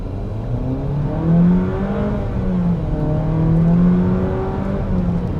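A 2022 Jeep Compass Trailhawk with a 9-speed automatic, held on the brake while the accelerator is pressed, its engine droning steadily and then swelling in two rising revs, heard up close and with no talking.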